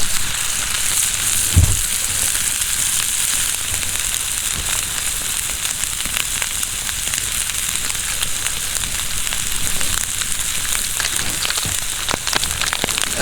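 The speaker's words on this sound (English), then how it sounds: "Oh, listen to the sound of that cast iron." A thick steak sizzles in a cast iron pan over a fire with olive oil, a steady loud crackling hiss throughout with a soft thump early on.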